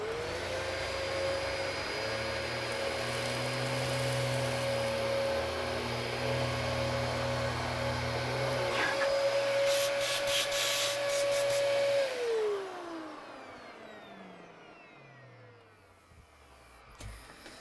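A Dyson DC14/DC33 upright vacuum cleaner, after cleaning for a loss of suction, runs with a steady loud motor whine and airflow roar, then switches off and winds down into silence.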